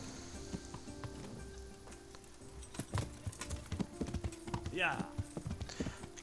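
Rhythmic clopping of horse hooves at a quick pace in the video game Kingdom Come: Deliverance, over a noisy background, with a voice talking over it and a brief whinny-like rise.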